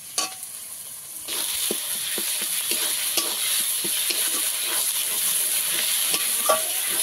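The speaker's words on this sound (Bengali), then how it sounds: "এবারে মশলাটা কিছুক্ষণ কষিয়ে নেব, যতক্ষণ না মশলার কাঁচা গন্ধ চলে যায়।" Masala with chilli, coriander and cumin powders frying for a pomfret curry, a constant bright sizzle broken by many quick spoon scrapes and taps against the pan, close and steady with no voices.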